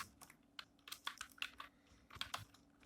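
A computer keyboard typed on quietly while coding a Python calculator program in PyCharm, a dozen or so soft close keystrokes in uneven bursts, alone without talk.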